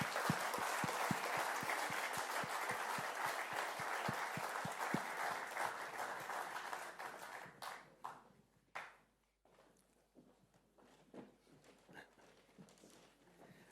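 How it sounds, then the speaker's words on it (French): Sustained applause from an event audience greets staff members called onto the stage, dense and steady for several seconds before thinning into scattered claps that trail off. "Et je vous demande de les applaudir"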